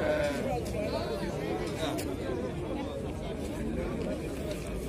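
Sheep and lambs, a mix of males and females, bleat at a busy livestock market amid steady crowd chatter, with nearby people talking over the animals throughout.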